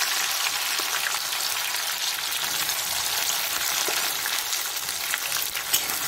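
Cloves, cardamom, bay leaves and whole garam masala fry in hot oil, a dense, even crackling sizzle close by that holds steady throughout with no voices.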